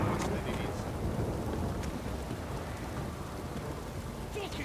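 Heavy rain pours down in The Witcher 3 game world, a dense, steady hiss of falling water with no gaps, heard close and fairly soft.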